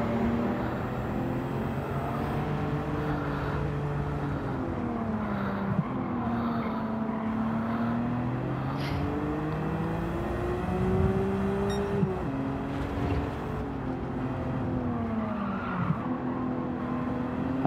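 Nissan GT-R race car in Gran Turismo 7, its engine droning steadily with rising and falling pitch through gear changes, with tire squeal and skidding mixed in, continuous and fairly loud throughout.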